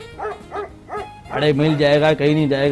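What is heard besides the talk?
dog barking in the background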